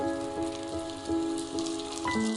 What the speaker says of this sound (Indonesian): Sedang hujan.